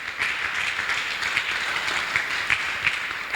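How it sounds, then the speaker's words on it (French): A church congregation claps and applauds steadily, a dense continuous patter of many hands with faint voices mixed in. "On acclame le Seigneur Jésus"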